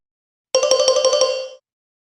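A mobile phone ringtone sounds for an incoming call from an unknown number, one burst of about a second of rapid, repeating bright electronic tones, loud and close, with no voices.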